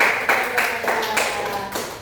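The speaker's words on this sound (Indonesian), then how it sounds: "beri tepuk tangan" Schoolchildren in a classroom clap their hands together, a steady patter of applause with a few louder claps, close and brief.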